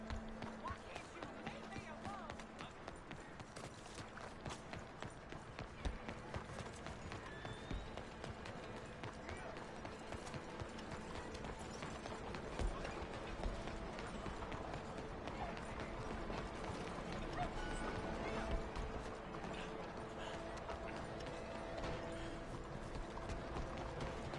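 Horse hooves clip-clop at a running pace in a PS4 video game, a steady drumming rhythm heard fairly faintly beneath game sounds and someone talking.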